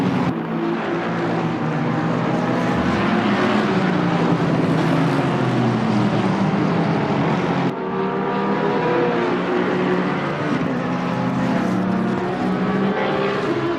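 Race cars in an endurance series race roar past continuously, their engines loud and near as several cars rev and drone over one another, with a brief dip partway through before the roar builds again.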